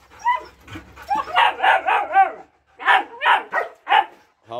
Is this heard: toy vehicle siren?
no